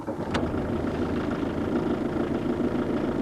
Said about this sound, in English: Now, as the engine starts,